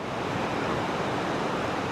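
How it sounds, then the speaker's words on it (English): A swollen creek rushes in the rain in Ketchikan, Alaska, a steady, full roar of churning water heard close and alone, with no break across the short stretch. "The creek is really rushing."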